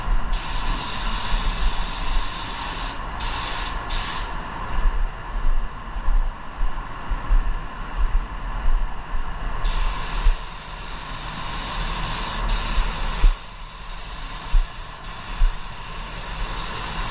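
A spray gun hisses continuously as teal paint goes onto a 1986 El Camino, a close, steady airy spray with brief breaks and trigger pulls, no talking.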